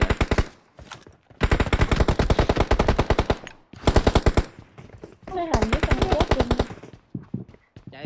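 Rapid automatic gunfire from a PUBG Mobile match rattles in long sustained bursts separated by short pauses, loud and close, with a few brief voiced sounds mixed in near the end.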